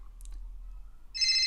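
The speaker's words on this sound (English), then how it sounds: "downloaded some suitable cell phone ringing music like this" A cell phone ringtone sounds loud and close in the final half second, a bright electronic tone that starts abruptly after near silence broken only by a few faint clicks.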